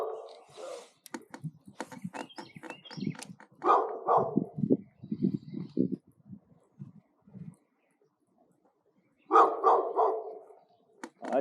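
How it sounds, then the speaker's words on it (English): A puppy barks near a dock on Lake Norman in irregular bursts of sharp yips and woofs, fairly close. It falls quiet for a few seconds, then barks again. "I see a puppy."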